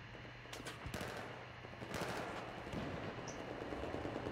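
Rapid bursts of automatic gunfire from a Battlefield 4 match on the Pearl Market map, including fire from a support soldier. The shots are dense and continuous, mixed with other loud battle noise and with no talk.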